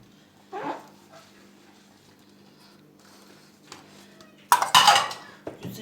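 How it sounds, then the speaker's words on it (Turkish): Dishes and a blender blade are washed by hand in a home kitchen after cooking lentil soup, with a faint clink early on and a loud burst of clattering and splashing near the end. "Şöyle blend, blenderımız bıçağını da yıkayayım."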